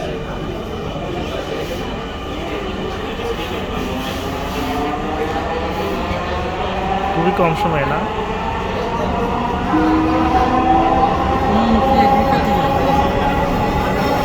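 A metro train bound for Agargaon rumbles steadily along with rising wheel and motor tones, while people talk nearby over the continuous hum.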